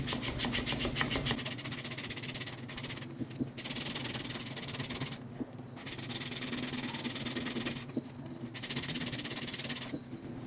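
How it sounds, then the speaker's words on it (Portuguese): Hand sanding inside an MDF piece, repeated rapid back-and-forth abrasive rubbing strokes in long bursts separated by short pauses, close and steady. "Lixar por dentro."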